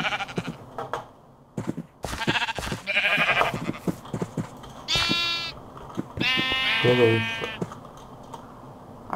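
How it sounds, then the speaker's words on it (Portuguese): Sheep bleating in the video game Minecraft, two loud quavering bleats, close and clear, among keyboard typing and game sounds; someone speaks Portuguese briefly. "Temos só com esse filhote de ovelha ali."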